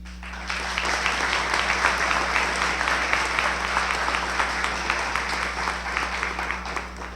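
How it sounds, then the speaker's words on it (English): Steady, sustained applause from a large audience at a state teacher-of-the-year recognition event, greeting a finalist as she comes up; dense clapping rises quickly and holds evenly throughout, with no talk over it. "please recognize them with the applause that they so richly deserve as they come up"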